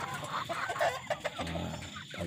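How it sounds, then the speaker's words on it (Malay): Rhode Island Red chickens on a poultry farm cluck in short, uneven bursts at close range, with overlapping soft calls and scattered bird noise throughout. "Ni baka-baka ayam RIR original ni."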